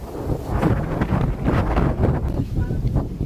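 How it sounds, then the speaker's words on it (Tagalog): Strong typhoon wind in a park in Taiwan roars and buffets the microphone continuously, a loud gusty rush with rustling trees underneath. "hindi namin nabubuklat yung payong dahil tinatangay ng hangin"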